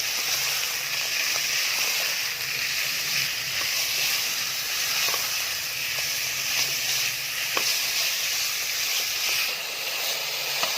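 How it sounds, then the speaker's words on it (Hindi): Minced meat (qeema) frying in a pan with garlic and turmeric, a continuous bright sizzle and hiss with small pops, close and steady throughout. "अब मैं इसके अंदर ऐड कर रही हूँ कीमा, और कीमे को हम अच्छे से अब भूनेंगे लहसुन में और"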